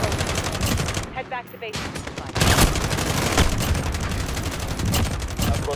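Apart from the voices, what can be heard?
gunfire in video game Call of Duty Modern Warfare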